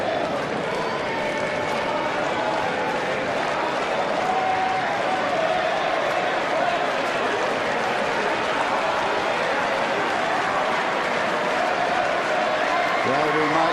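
A tennis crowd at the 2005 Miami Masters final rising to applaud Rafael Nadal, a dense, continuous wash of clapping and cheering that holds steady and loud throughout, with a commentator's voice faintly underneath.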